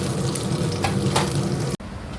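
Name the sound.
fish frying in a pan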